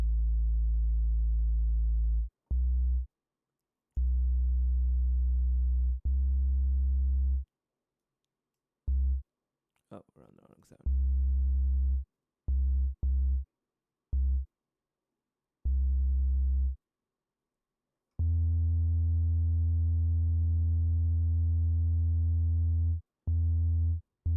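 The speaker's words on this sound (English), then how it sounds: "And we're going to modulate that filter cutoff, and we're going to make a pad sound." A synth pad built in Reaktor with a modulated filter cutoff plays in steady sustained tones that stop and start, broken by short gaps, a few clicks and one brief noisy burst, with no voices.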